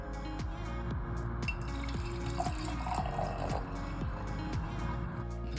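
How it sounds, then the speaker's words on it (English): Juice pours steadily in a continuous liquid stream, a close, soft gurgling wash with faint dripping, running alone without any talk. "the juice is being poured out from the notepad here"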